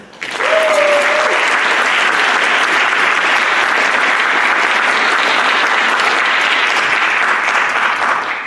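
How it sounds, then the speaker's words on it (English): Sustained, loud applause from a large crowd at a high school award ceremony, thick and continuous for several seconds with a brief whistle near the start. "So you should all give yourselves a round of applause right now."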